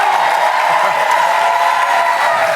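Studio audience cheering and clapping in a steady, even wash, loud and close, with a voice talking over it.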